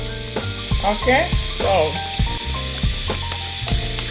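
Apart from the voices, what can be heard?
oil heating in a frying pan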